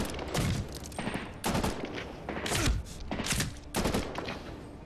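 Gunfire in the combat game Medal of Honor Warfighter crackles in repeated loud bursts about every second, with dense rattling volleys close by and no talk.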